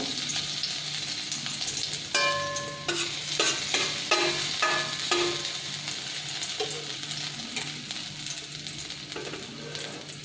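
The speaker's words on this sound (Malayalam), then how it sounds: "എണ്ണ ചൂടായി നാവുമ്പോൾ പച്ചമുളക് ഇടുക." Green chillies dropped into hot oil in a pan, frying with a steady loud sizzle and a few sharper crackling bursts as they hit the oil, close and continuous without talk.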